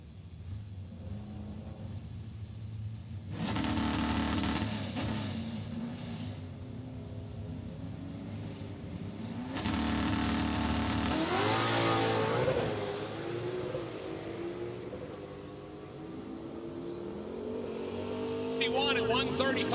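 Doug Cook's drag car Pumpkin Spice makes a pass at Sick Week in Orlando, engine bursts swelling loudly in several surges beneath ongoing announcer commentary, then fading into a distant whine.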